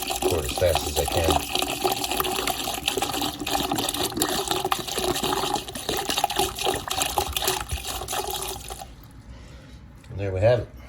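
Water poured quickly into a new shower drain and pipe, a steady rushing gush that runs loud and continuous before tapering off near the end.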